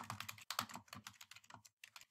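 Someone types a search keyword into a library catalog on a computer keyboard: quiet, rapid clusters of close keystrokes broken by short pauses.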